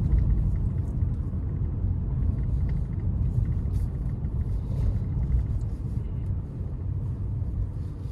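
A car drives through city streets with a steady low rumble of engine and road noise throughout, continuous and fairly loud with no talking.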